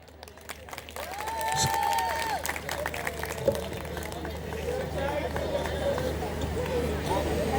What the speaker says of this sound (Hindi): जोरदार ताली होनी चाहिए दोस्तों।